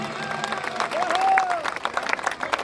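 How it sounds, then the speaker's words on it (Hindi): An audience at a village devotional gathering for the goddess Mansa Devi applauds to welcome a guest, a steady crowd clapping under a voice on a public address system. "जोरदार तालियों बजाने स्वागत"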